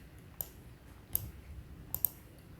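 Four quiet, sharp clicks of calculator keys being pressed, spaced unevenly with two close together at the end, over a faint background hush.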